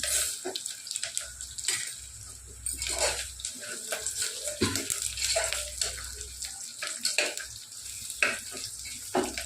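Chana dal and curry leaves fry in a pan for Rayalaseema menthi pappu, a continuous crackling sizzle broken by stirring scrapes, close and fairly loud.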